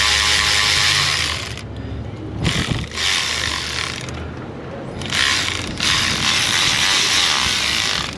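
A hand ratchet clicks rapidly in several bursts, separated by short pauses, as bolts are snugged down on a 2005 LLY Duramax diesel engine during a head gasket replacement, close and clear.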